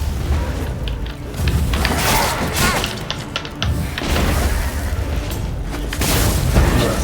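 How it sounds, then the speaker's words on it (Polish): Loud booming explosions and bursts of gunfire in The Witcher 3: Wild Hunt crash repeatedly, dense and continuous, with whooshes and thuds in between. "Te wystrzały, te wybuchy, o matko."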